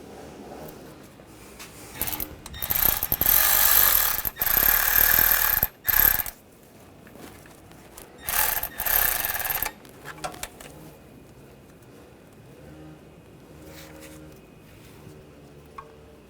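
Ratcheting on the idler pulley bolts of a Honda Pilot V6 during a timing belt and water pump job, clicking in several loud bursts in the first ten seconds, then quieter mechanical clicks and handling noises.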